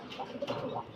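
A domestic pigeon offered for sale coos softly and close by in one short, low burbling call, with no voices.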